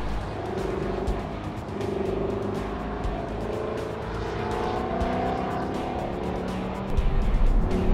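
Lexus LC 500 engine on the Laguna Seca race track, a loud continuous close engine drone rising and falling through automatic downshifts, heard alone.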